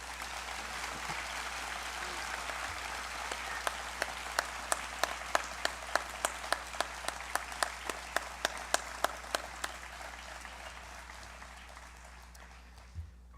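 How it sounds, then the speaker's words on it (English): Audience applause for graduating seniors at the 2022 Brookstone graduation ceremony, a steady wash of clapping from a large crowd with a run of sharper individual claps standing out in the middle before it thins out. "Parents, please give another round of applause for our graduates."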